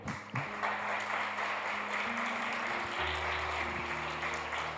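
A church congregation applauds during a Spanish-language service, the clapping a steady wash over sustained held keyboard tones that shift pitch beneath it.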